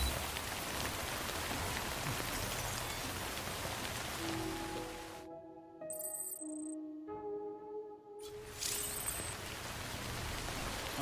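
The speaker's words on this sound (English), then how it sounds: "I don't think this rain's gonna stop." Steady timefall rain hisses in the video game Death Stranding, with a brief hush in the middle where a few soft tones ring before the downpour resumes.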